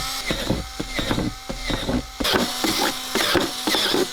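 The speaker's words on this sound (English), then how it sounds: "drill holes in that bloody box" A power drill with a 6 mm bit buzzes in short bursts while drilling holes in a box, starting and stopping repeatedly with a mechanical whine, close by and fairly loud, with no voices.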